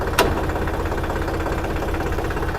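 Tractor engine running steadily while driving off-road, a continuous close mid-to-low rumble with a brief sharp click near the start.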